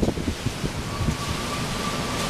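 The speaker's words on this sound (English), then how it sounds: "Why is it so windy, and why did my camera almost just fall?" Wind buffets a microphone outdoors, a steady low rumbling roar with gusty thumps, loud and close, with no talking.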